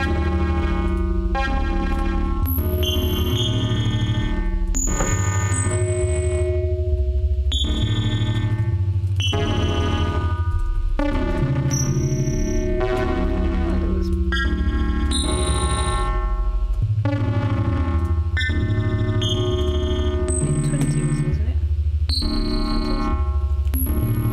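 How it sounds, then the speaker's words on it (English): Generated electronic noise standing in for a glitch and a hum at an algorithmic noise orchestra workshop, a loud continuous stream of shifting tones, pulses and high beeps over a low droning hum. "noise is meant to be representing"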